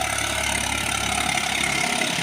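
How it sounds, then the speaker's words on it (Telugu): A tractor's engine drones steadily on a fog-covered road between Kuneru and Rayagada, a continuous mid-to-low rumble at a constant, fairly loud level with no talking. "మంచు మాత్రం ట్రాక్టర్ వస్తుంది చూడండి"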